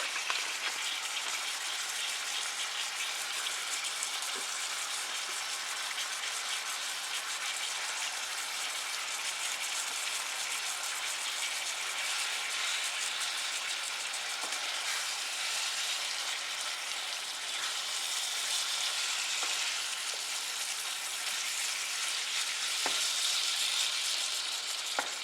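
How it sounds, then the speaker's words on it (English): Ground hamburger fries with peppers and onions in a hot pan, giving a steady, dense sizzle that holds evenly throughout with faint stirring rattles and no talking. "Hamburger is starting to cook up. I'm just going to toss these peppers and onions in"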